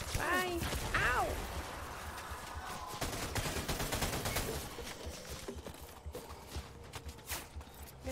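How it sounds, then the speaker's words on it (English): Gunfire in the video game Death Stranding crackles in rapid bursts and scattered shots amid clattering in-game action, with occasional whooshing effects, fairly loud throughout. "Who's shooting?"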